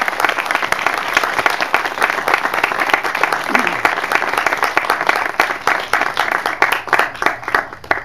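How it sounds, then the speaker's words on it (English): A room of guests at a home gathering in Silicon Valley applauds Maharaj with a steady, dense round of clapping that carries through to the end, with a voice faintly under it. "We request you to have a nice round of applause for Maharaj for being here."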